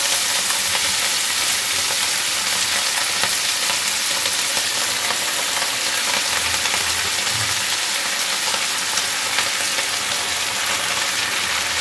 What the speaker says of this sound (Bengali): চলো পেঁয়াজ কলিটাকে আগে ঝটপট করে রান্না করে নিই